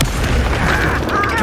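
Incendio fire spell going off in Hogwarts Legacy, a loud, dense burst of whooshing flame and booming roar that holds steady across a short moment, with no pause or fade.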